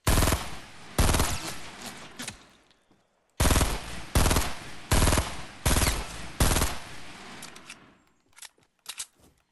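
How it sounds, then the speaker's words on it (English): Assault rifle fire in a console battle-royale shooter, loud close bursts of rapid shots in two main volleys separated by a short pause, ending with a few scattered single shots. "His assault rifle's a lot more accurate than mine."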